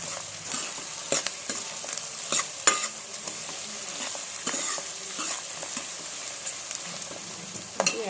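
Mutton curry masala with onions frying in a pan while being stirred, a soft continuous sizzle broken by irregular scraping and clinking spoon strokes, close by and without talk.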